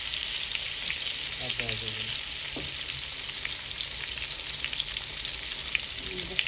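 Eggplant slices frying in oil in a pan for a home-cooked winter meal, a steady broadband sizzle running throughout, with a brief spoken word from a person near the start.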